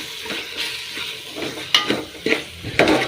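Ginger garlic paste is stirred in a hot pan while cooking veg pulao, giving a steady sizzle and frying hiss broken by several sharp scrapes and clinks of the spoon against the pan.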